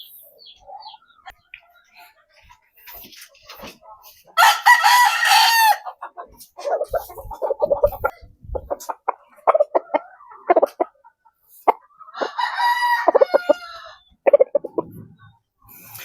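Pure Dom gamefowl chickens clucking nearby with a rooster crowing loudly twice, separated by scattered clucks and short quiet gaps.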